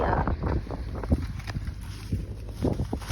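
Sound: strong wind blowing over plastic sheeting in field

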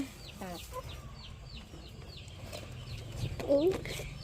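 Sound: chickens clucking

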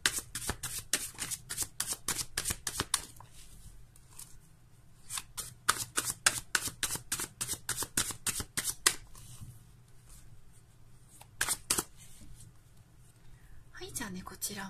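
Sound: shuffling fortune-telling cards

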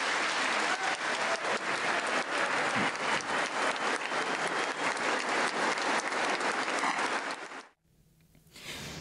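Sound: standing ovation applause in the US Congress

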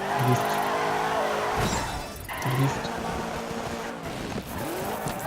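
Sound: car crashing in video game DiRT 3 gymkhana

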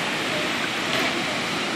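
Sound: waterfall at hot springs

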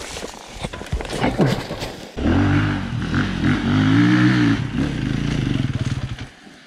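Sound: KTM or Yamaha enduro motorcycle engine revving

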